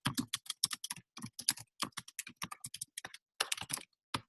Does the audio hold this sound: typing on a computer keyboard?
yes